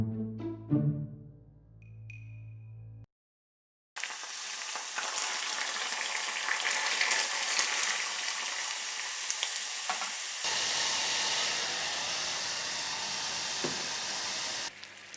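A wet caramel of sugar bubbles and sizzles in a pan as a loud, dense, continuous hiss with faint crackling. Several seconds of soft musical tones come first, then brief silence, and the sizzle carries on steadily with a slight change partway through.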